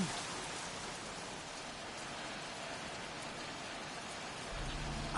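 Steady downpour in the game Heavy Rain, an even wash of falling rain with no voices, swelling slightly near the end.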